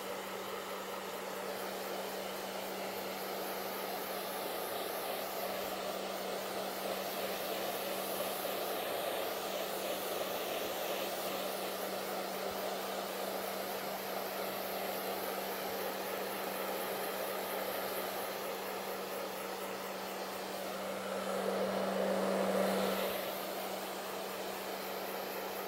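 Hair dryer drying a painting of flowers, a steady continuous whir with a constant hum, running alone without talk and swelling briefly louder near the end.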